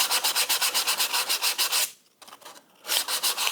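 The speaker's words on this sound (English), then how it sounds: "I'm going to just take some simple 120 sandpaper and come in here and just" Sandpaper of 120 grit rubs back and forth across the wooden back of a handmade classical guitar in quick, even strokes, loud and close, pausing briefly before the steady rasping resumes.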